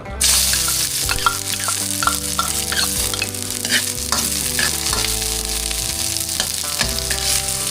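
Garlic, onion and ginger sautéing in a pan, a continuous close sizzle with repeated scraping stirs of a spatula over several seconds and no talk.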